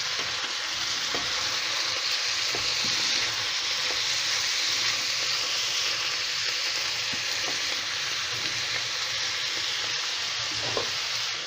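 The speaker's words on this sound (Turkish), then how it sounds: "Bu şekilde soğanlar güzelce kavrulsun." Onions fry in oil for liver kebab with a steady, loud, dense sizzle throughout, punctuated by faint clicks of stirring.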